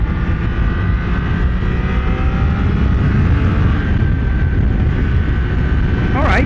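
A Triumph Daytona 660 three-cylinder motorcycle accelerates up a freeway on-ramp, its engine a loud, steady drone with rising tones under rushing wind noise.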